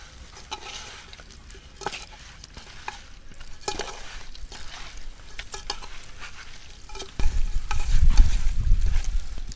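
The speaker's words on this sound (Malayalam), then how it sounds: "നല്ലോണം മിക്സാക്കി കൊടുക്കുക." Pepper chicken masala gets stirred in a pan, soft scraping and clattering up close, before a louder sizzling of frying surges in near the end.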